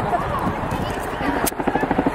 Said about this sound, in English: Chinook being allowed to enter the aerodrome from crowd left